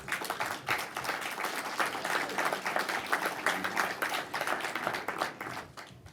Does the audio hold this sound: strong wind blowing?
no